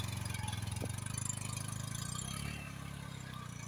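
A motorcycle with its wheel stuck in sand by a forest river revs and strains in a steady low drone, briefly louder, then easing slightly toward the end.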